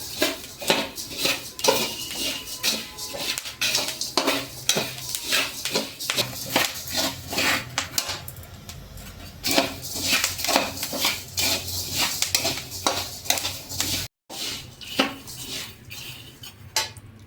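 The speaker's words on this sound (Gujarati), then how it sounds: "સિંગને સતત હલાવી રાખવાની જેથી કરીને દાણા ઉપર ચમકી ન પડે" Peanuts being roasted for khari sing are stirred continuously in a metal pan, giving a close, busy run of scraping, rattling and clinking from the spoon and kernels, with one short pause near the end.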